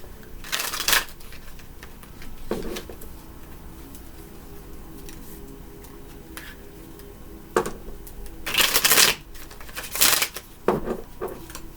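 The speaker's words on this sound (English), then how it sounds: "Hope this shuffling isn't" Tarot cards are shuffled in several short, crisp riffling bursts. Each burst is close and loud, with quiet gaps between them and a cluster near the end, and no talking.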